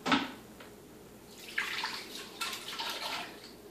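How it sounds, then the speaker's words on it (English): Water and duck meat spill from a bucket into a slow cooker, an opening splash followed by sloshing, gurgling pours in uneven bursts, close and moderately loud with no talking. "have the meat in the bucket, water up to the meat line, and just spill it into a slow cooker"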